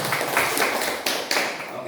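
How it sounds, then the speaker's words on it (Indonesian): A classroom of students claps for a group, a short burst of uneven, close hand claps with a few sharper accents near the end. "Kita tepuk tangan untuk kelompok 1 dulu."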